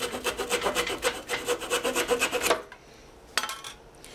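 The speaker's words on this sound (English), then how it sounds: "Take my little gent saw," A small gent saw cuts through walnut in quick, steady back-and-forth strokes, close by, then stops; a single faint knock follows in the quiet.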